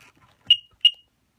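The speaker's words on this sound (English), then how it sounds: "let's go ahead and get my keys in and see if it beeps." A Sea-Doo GTX jet ski buzzer gives two short, sharp beeps in quick succession right after a soft click of the key going in, close and otherwise quiet.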